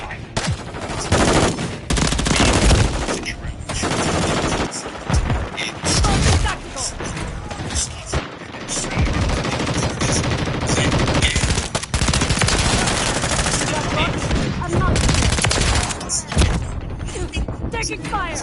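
Dense gunfire in Modern Warfare 3, loud sustained automatic bursts and thuds nearly filling the whole stretch, with game voices shouting over the shooting.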